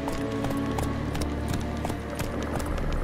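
Hoofbeats of Roach, a horse in a video game, galloping in a quick steady clip-clop rhythm, close and continuous under a low music bed.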